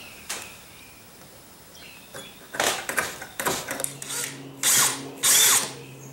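A power drill drives screws into a wooden chicken coop door, short whirring bursts that rise in loudness, the last few longer and sharper, separated by quiet pauses and handling noise.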